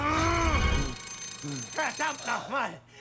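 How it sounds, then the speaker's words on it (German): A telephone rings in Resident Evil VII, a loud burst of ringing at the start; excited voices follow with several shouted calls. "Telefon!"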